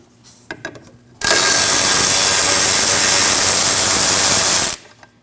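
Loud sustained power-tool burst, likely an impact wrench, removing a 12mm bolt from the rear lower control arm of a 2003-2008 Subaru Forester, running steadily about three and a half seconds after a few light clicks and then cutting off.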